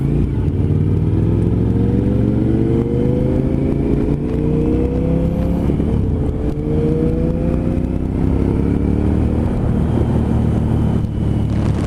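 A Suzuki TL 1000 R V-twin motorcycle engine roars under load, revving up through the gears in long rising sweeps, loud and close with wind rush over the microphone and no talking.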